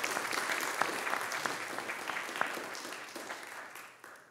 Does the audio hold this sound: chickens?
no